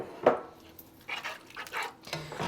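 A dog gives one short, sharp bark near the start, fairly close, followed by quieter household noise and faint clatter.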